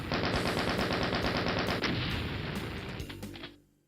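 Rapid gunfire from the video game Doom II rattles in a dense, loud burst for several seconds, then breaks into a few separate shots before fading out.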